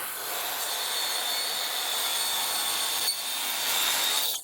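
A power saw making a trimming cut on a wooden wall panel aboard a 55-foot steel trawler, a steady loud high-pitched whine and hiss with a brief dip near the end, close by.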